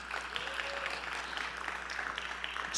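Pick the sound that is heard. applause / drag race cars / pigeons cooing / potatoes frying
applause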